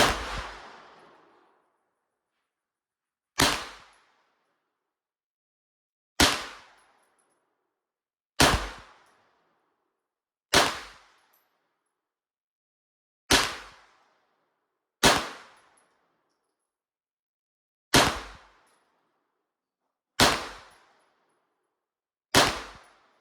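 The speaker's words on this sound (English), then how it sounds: "So without further ado, 10 rounds, 20 to 25 yards." Ten single shots from a GSG MP40 clone submachine gun fired at a target 20 to 25 yards away, each a sharp loud bang with a short decaying echo, spaced a few seconds apart outdoors.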